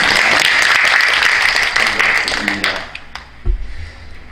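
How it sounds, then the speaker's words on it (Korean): An audience at a church general assembly of Korean women ministers applauds loudly in a large hall, the clapping fading out after about three seconds into scattered claps and a thump. "감사 박수 다시 한번 드리겠습니다"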